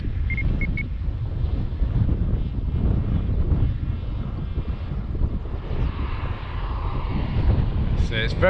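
A ZOHD Dart XL Enhanced FPV wing on its maiden flight buzzes faintly in the distance, its motor half-buried under strong, gusty wind rumble on the microphone.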